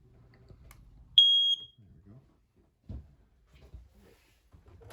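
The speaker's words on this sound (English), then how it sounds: "right here, we've got your smoke detector." A single high-pitched smoke detector chirp inside a travel trailer, short and sharp, standing out over a quiet room with faint background noise.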